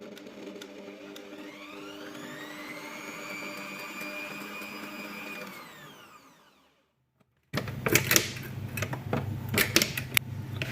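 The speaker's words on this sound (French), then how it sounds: "Je vais battre mes blancs d'œufs jusqu'à ce que ça mousse un petit peu." Electric hand mixer whipping egg whites for caramel-salted-butter macarons, a steady motor whine with a rising then falling pitch sweep that winds down to a brief silence before a rougher, louder burst of whisking resumes.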